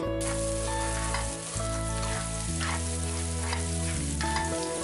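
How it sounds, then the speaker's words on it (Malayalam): Chopped ginger and garlic sauté in coconut oil for a mussels roast, giving a continuous, even sizzle with faint stirring under a steady tonal hum. "ഇതിന്റെ റോസ് സ്മെൽ പോകുന്നത് വരെ വഴറ്റി കൊടുക്കുക."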